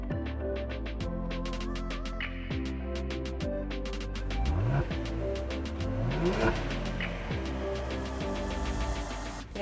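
A royal blue Genesis G70 with the 3.3 gasoline turbo engine driving on a commute, its engine note steady inside the cabin and rising and falling through smooth gear shifts as it accelerates.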